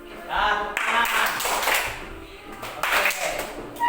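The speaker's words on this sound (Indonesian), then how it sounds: "Ya, tepuk tangan." Seventh-grade students in a classroom clap their hands in uneven bursts of claps, with voices talking alongside them.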